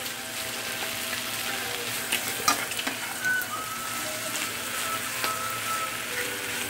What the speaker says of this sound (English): bacon is frying, turning nice and crisp